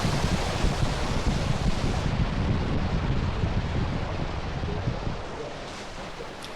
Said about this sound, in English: experience for yourself what it's like to stand under a waterfall in the Grand Canyon and soak it all in